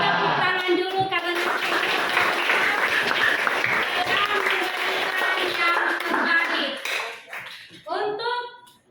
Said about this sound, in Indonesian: Tapi tepuk tangan dulu